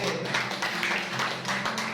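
A church congregation at a Sunday service claps for God, a dense, steady patter of many hands filling two seconds, with a faint hum underneath.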